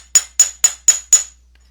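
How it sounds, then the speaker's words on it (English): Five evenly spaced, ringing hammer blows strike a piece of scrap metal on a jeweler's bench block, sharp and close with a bright metallic ring, then silence. "I'm going to hammer that."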